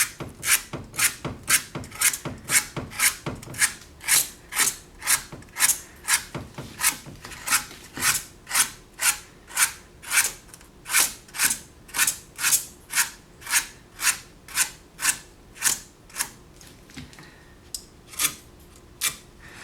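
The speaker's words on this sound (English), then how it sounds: "I'm going to lacerate the back and try to raise up kind of a little fringe so that there will be more rough paper for the glue to grab onto" A hand tool roughens the paper spine of a perfect-bound book block, rasping in steady, regular strokes about two per second, loud and close with no talk.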